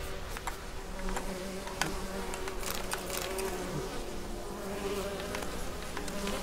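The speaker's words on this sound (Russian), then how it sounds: "воинственные пчелы тут бегают" Bees buzz steadily in the video game The Witcher 3: Wild Hunt, a continuous droning hum with scattered clicks and ticks over low ambient game noise, close and moderately loud with no speech.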